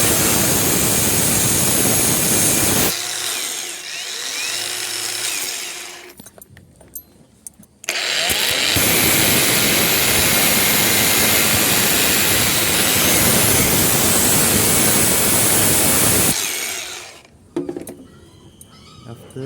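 An angle grinder cuts into a jammed grinder wheel nut in two long, loud, harsh bursts, each with a short pause between. The second burst runs longer before the tool winds down.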